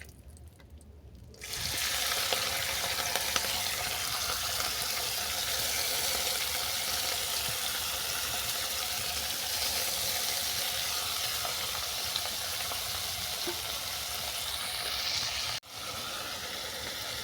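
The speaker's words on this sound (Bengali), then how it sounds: "এর মধ্যে চিংড়ি মাছটাকে ভেজে নিচ্ছি" Small prawns coated in salt and turmeric frying in a wok, a loud, continuous close sizzle that starts after a short quiet moment and runs steadily, with one brief dip near the end.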